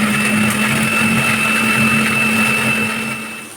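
An electric grinder blends spices and ingredients for a potol (pointed gourd) curry, giving off a steady, loud motor whine and hum that runs without a break and eases off near the end.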